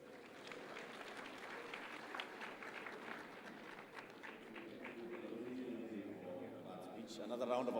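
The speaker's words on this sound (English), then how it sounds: "Another round of applause, please, for Balozi Geiger from the EU." An audience applauding at a devolution governance conference, sustained dense clapping from a large crowd in a hall, steady and swelling slightly toward the end, no talking.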